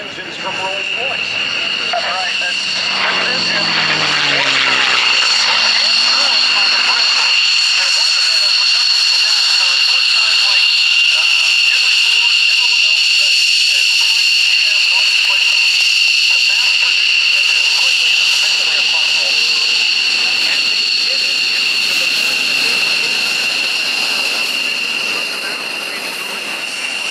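Loud, steady roar of a vintage aircraft powered by Rolls-Royce Merlin engines flying past at an air show in Belle Chasse, Louisiana, sustained for the whole stretch and swelling as it nears.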